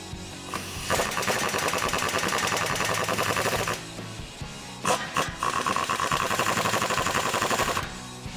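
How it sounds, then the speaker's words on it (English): A socket wrench with a 15mm socket snugs up the exhaust clamps of a Borla S-Type dual exhaust on a 2014-2018 Silverado or Sierra 1500. Two long bursts of rapid, loud, close ratcheting are split by a short pause. "we're just going to snug up these clamps using a 15mm socket"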